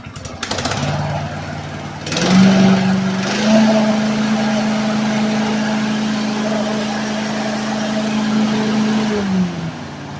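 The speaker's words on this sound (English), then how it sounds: "it's a pretty nice running engine" The small engine of an EGN EG800 remote-control lawnmower idles steadily at close range, with a brief rev near the start and a drop in pitch at the end.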